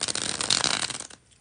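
A deck of playing cards is bridge-shuffled during a tarot reading, giving a dense, rapid riffling flutter lasting about a second before stopping abruptly, close and fairly loud.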